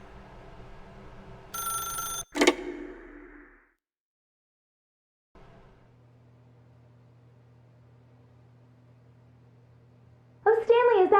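A telephone in The Stanley Parable video game rings with one short loud electronic burst, then falls quiet before a low hum and a voice at the end.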